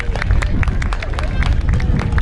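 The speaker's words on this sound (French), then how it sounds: "Donc vous pouvez l'applaudir." A beach crowd applauds a magician at Dieppe, scattered sharp claps over lively babble and chatter, with children's voices and talk mixed in.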